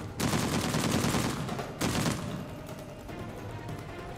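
Gunfire in the video game Uncharted 4: The Lost Legacy, with a dense burst of rapid automatic shots followed by a second short volley, loud and close, then a fading tail.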